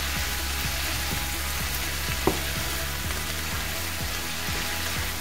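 Vegetables and beef sizzle in a hot pan while being stirred, the frying hiss steady and close with a regular rhythm of scraping strokes and one sharp clink.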